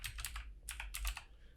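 Keys clatter on a computer keyboard in short bursts of quick taps with brief pauses, close and clear, with no voices.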